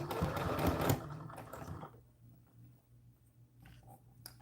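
A home sewing machine stitches in a loud, fast whir at close range for about two seconds, then stops, leaving a faint low hum behind.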